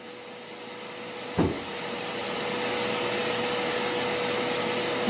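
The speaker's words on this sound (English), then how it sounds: "This is using her full-size blast cabinet, and you can see it doesn't take very long at all to blast the part and to add the texture." Inside a full-size blast cabinet, a steady loud roaring hiss of sandblasting texturizes a plastic injection-molded part, starting after a brief thump and holding continuously to the end.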